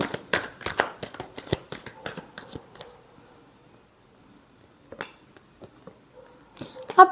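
Tarot cards being shuffled by hand, a flurry of close, crisp riffling flicks and taps in the first few seconds, then a quiet pause followed by a few scattered soft card handling sounds.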